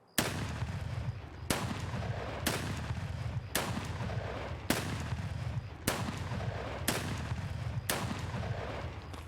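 A shotgun loaded with buckshot fires in Escape from Tarkov, eight loud, evenly spaced booming blasts, each one trailing into a short rumbling decay.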